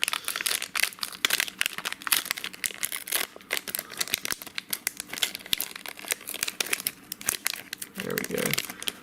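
Someone rips open a Pokemon booster pack wrapper, a continuous close run of crinkling and tearing foil with sharp irregular rustles throughout and a brief soft voice near the end.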